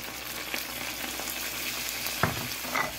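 Spiced food frying in a pan, seasoned with black pepper, salt and red pepper, stirred before coming off the heat; a steady close sizzle with occasional scraping stir strokes and one firmer knock, no talking.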